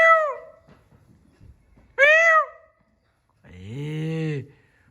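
Three separate meows from a cat on a rooftop nearby, spaced out with quiet pauses between them, the last one longer and lower.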